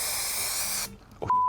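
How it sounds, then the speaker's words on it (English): Super Shine Spray hisses from an aerosol can onto 3D printed lamp panels in one close, steady burst that cuts off abruptly, followed by a few faint clicks and a brief tone. "I'm gonna use Super Shine Spray."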